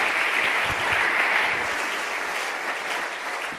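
Church congregation applauding during a sermon, a dense wash of steady clapping that holds for a few seconds and then gradually thins and softens.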